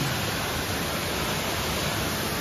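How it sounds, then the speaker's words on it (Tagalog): Balagbag Falls in Real, Quezon, on a rainy day: a dense, unbroken roar of falling water fills everything, steady and loud with no voices. "Yan ang Balagbag Falls dito sa Real, Quezon."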